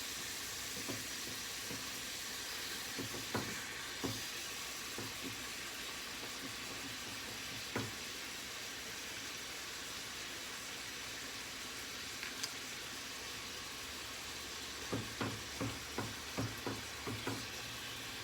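Three pounds of ground beef browning in a hot pan give a steady, close sizzle. A few scattered clicks and scrapes of stirring come through in short bursts, with no talking.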